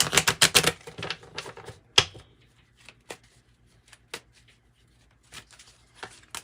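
A Kipper card deck is shuffled for a tarot reading: a quick flurry of riffling card clicks, then scattered taps and soft slaps of cards with pauses between, close and fairly quiet.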